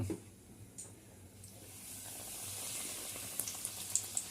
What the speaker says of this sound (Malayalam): പൊരിച്ചെടുക്കുക